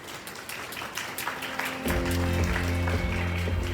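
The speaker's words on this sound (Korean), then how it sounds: "큰 박수로 함께 해주시면 감사하겠습니다." An audience at a youth safety-net event in Daejeon applauds as guests are introduced, steady clapping that swells after a couple of seconds while background music enters underneath.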